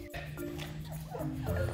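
A Bichonpoo puppy at a breeder's sale gives soft, thin whimpers and small yips close up over a steady low hum, with no talking.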